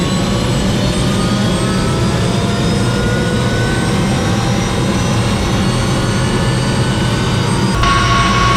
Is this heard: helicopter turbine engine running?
yes